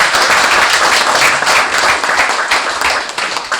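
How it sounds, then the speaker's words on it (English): A crowd at a community cooking gathering breaks into steady, dense applause, many hands clapping loudly and evenly for the whole stretch with no voices over it. "So give them a round of applause for them too."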